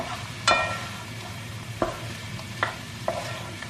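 Mushrooms sautéing in butter and oil in a pan, a low steady sizzle under four distinct spoon clinks and scrapes spaced irregularly, close up.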